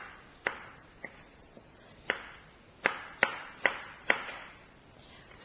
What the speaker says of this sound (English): we will chop up the peeled garlic and the onions